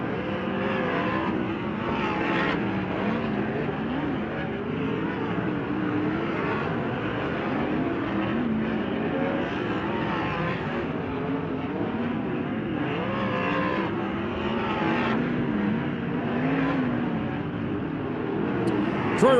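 Race cars at Ventura Raceway in California, during a Turkey Night Grand Prix event, drone and rev continuously as several engines circle the track, loud and sustained with rising and falling passes.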